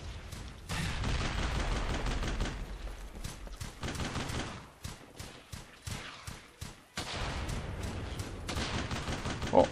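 Gunfire from an 88 cannon and small arms in the Brothers in Arms: Hell's Highway war game crackles in dense bursts, with a run of sharp separate shots in the middle before heavy firing resumes, loud and close.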